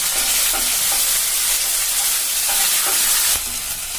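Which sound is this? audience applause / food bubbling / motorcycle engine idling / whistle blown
food bubbling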